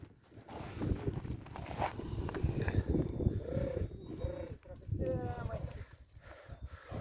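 Hooves of a young draft mare shuffle and thud on the ground as she moves about, with people talking nearby over the restless clopping.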